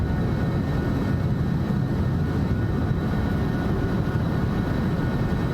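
Airliner engines roar steadily through a takeoff in Microsoft Flight Simulator, a loud continuous broadband rumble holding at constant level with no talk over it.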